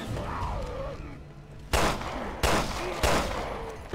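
Three sharp gunshots fired at a wall in the video game Resident Evil Revelations 2, each a loud close blast spaced under a second apart over low game ambience.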